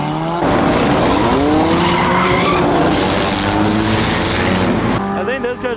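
A race car spins out in a night crash-enduro racing video game, tires screeching in a loud, sustained skid over engine roar for several seconds before the noise drops away.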